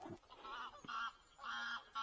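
Canada geese honk repeatedly in a field, a few nasal calls in uneven bursts, fairly distant and soft against quiet outdoor background.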